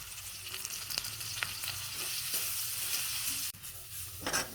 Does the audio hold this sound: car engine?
no